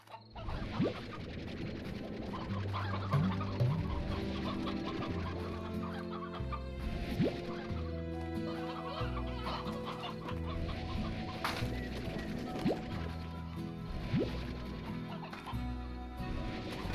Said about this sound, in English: Gonna be like 4 more runs of chickens, I think.